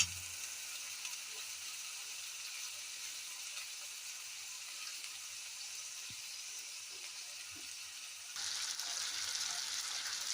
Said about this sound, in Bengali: এবার মাংসটা ভালো করে আমি কষতে থাকবো